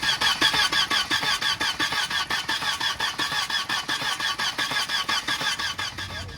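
A 1992 Volvo 740 Turbo engine cranks steadily on the starter during a compression test, with a loud, rhythmic churning pulse that repeats evenly and never catches, heard close and without voices.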